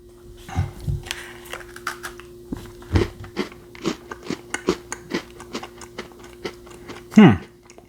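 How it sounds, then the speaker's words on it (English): Crunchy Ukrainian lemon cream cookie bitten and chewed close up, a series of sharp crisp crunches in a steady chewing rhythm, ending with a louder bite. "Cookie is nice and crunchy."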